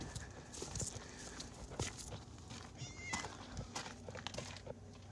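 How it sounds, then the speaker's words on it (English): A barn cat meows briefly amid scattered clopping and shuffling footsteps in a quiet farm barn. "There's Garfield, our barn cat."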